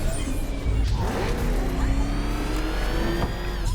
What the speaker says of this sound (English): Just gotta rev the engine.